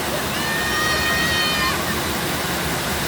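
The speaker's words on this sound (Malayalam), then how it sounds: "റൈറ്റ് സൈഡ് വലിയ വെള്ളച്ചാട്ടത്തിൻ്റെ തൊട്ട് പറ്റിയുള്ള വ്യൂ." Large Aruvikuzhy waterfall in Kerala heard up close from its right side, a loud continuous roar of rushing water, with faint voices of bathers mixed into the steady wash.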